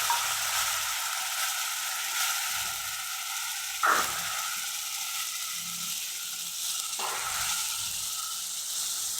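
A ground mixture of garlic, coriander and chili fries in oil in a wok, giving a continuous close sizzle broken by two sharp clinks of a spoon against the metal.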